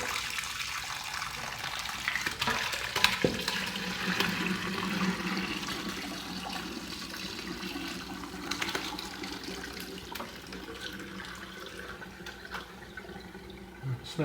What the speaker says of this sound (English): we're going to drain this through some cheesecloth and a colander